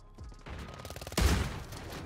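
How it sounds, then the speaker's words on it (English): Gunfire in Call of Duty Warzone 3: a short run of rapid shots followed by one sharp, louder crack, heard without talk. "Now I'm getting sniped at from far."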